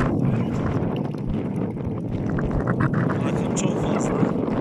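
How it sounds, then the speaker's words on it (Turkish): Strong cold wind at 2600 metres altitude roars steadily into the microphone, a dense low buffeting rumble that stays loud and unbroken throughout. "İnanılmaz bir rüzgar."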